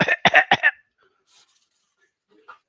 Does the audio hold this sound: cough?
yes